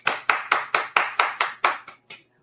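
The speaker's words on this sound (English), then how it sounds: "I had to give you a round of applause" A round of applause from one pair of hands: nine crisp, evenly spaced claps, close and clear, with the last ones softer before silence.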